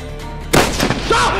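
Gunshot burst in the sandbox game Garry's Mod during a one-on-one sniper match, a sharp loud blast followed by ringing tail and other game noise, with a voice talking over it.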